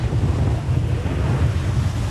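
Ocean waves wash against a sailboat on the open sea of the Mona Passage as strong wind buffets the microphone, a steady loud roar with no voices.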